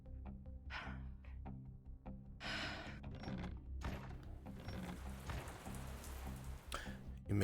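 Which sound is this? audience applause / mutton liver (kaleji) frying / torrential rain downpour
torrential rain downpour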